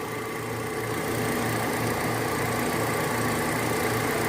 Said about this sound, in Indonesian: yang terdengar hanyalah suara dari mesin.